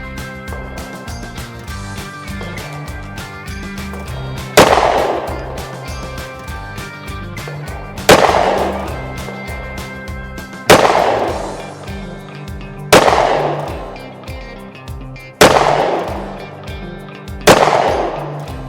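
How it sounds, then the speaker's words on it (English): Six loud, sharp 9mm pistol shots with 115-grain rounds from a micro compact handgun at an outdoor range, spaced a few seconds apart, each decaying with a ringing tail. "We're going to shoot the target on the left again"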